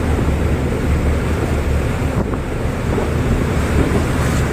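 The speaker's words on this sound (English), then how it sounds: "Look at this choppy water right here." Choppy open water slaps and churns beneath a ferry ride while heavy wind buffets the microphone, a loud, continuous roaring wash with no voices.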